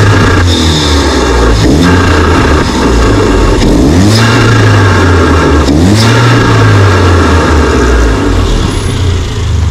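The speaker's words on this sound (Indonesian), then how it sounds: "abang rem satu kali, korang boleh perasan dia punya bunyi blow off dia" A Mercedes A45 2.0 AMG engine revs repeatedly up and down in loud, close sweeps, the turbo blow-off valve hissing as the throttle closes, with no talk over it.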